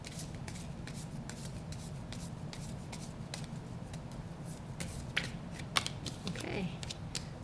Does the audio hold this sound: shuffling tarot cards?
yes